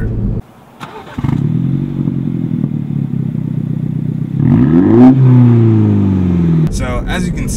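A Mini Cooper S with a Borla exhaust and CravenSpeed cold air intake, heard from the rear: the engine catches and settles into a steady, burbling idle, then revs up with a rising, then falling whine before cutting off into faint clatter.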